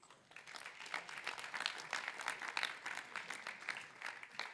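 An audience claps along during mantra chanting at a Rudrabhishek puja and satsang gathering, a steady patter of many hands that sounds faint and distant and continues without break.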